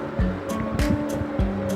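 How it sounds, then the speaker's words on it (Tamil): Water rushes onto uncooked rice in a pressure cooker for tomato rice, a close, steady gushing pour with a few splashy surges. "இப்போ நம்ம தண்ணி சேர்த்துக்கலாம்."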